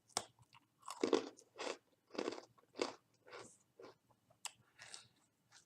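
Someone bites into and chews a hard, thin hazelnut cookie, giving sharp crunches and then irregular bursts of crisp chewing, close and quiet with pauses between bites.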